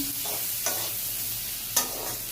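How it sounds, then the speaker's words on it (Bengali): Onion and garlic fry in a pan over cumin seeds, giving a steady soft sizzle broken by two sharp scraping stirs. "এটা একটু ভাজাভাজি হোক"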